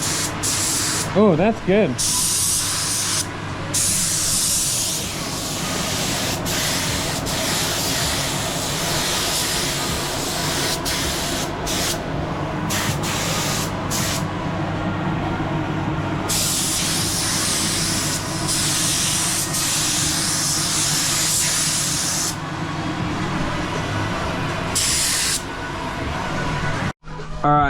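Spray gun hissing steadily as colour goes onto a Toyota Corolla panel in a home garage, a continuous close airy spray running almost the whole time, with a voice briefly at the start and end.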